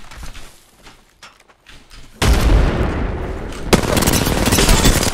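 Frag grenade explosion and heavy gunfire in the Apex Legends video game, a sudden loud blast that rolls into dense continuous firing with a second sharp hit partway through, after a quieter stretch of scattered sounds.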